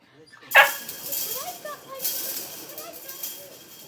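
Dog barking and yipping during recall training, one sharp loud bark near the start followed by excited whimpers and yips, mixed with a person speaking and calling.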